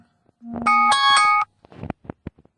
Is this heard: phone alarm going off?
yes